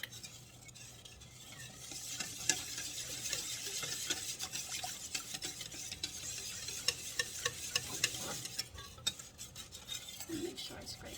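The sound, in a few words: stirring and scraping melting chocolate chips for hot cocoa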